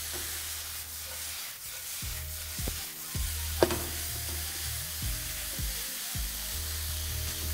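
Chicken sizzling and frying in a pan over a high flame, a steady close hiss with repeated stirring scrapes and clanks, no talking.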